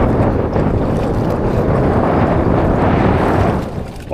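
Strong wind roars across a fishing boat at sea, a loud, constant buffeting rush against the microphone with low rumbling gusts throughout.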